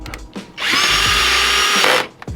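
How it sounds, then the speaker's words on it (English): A power drill fitted with a standard screw bit drives a self-tapping screw while installing side skirts on a Mazda Miata, a loud, close, steady whine lasting under two seconds, framed by brief clicks and handling noise. "he's going to use a self-tapper now, just with a standard screw bit, and it should just go right in"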